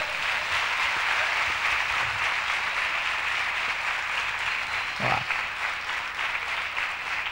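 An audience at the VEDH Latur 2016 event applauds in a steady, continuous wash of clapping that fills the room at moderate volume, with a brief louder thump partway through.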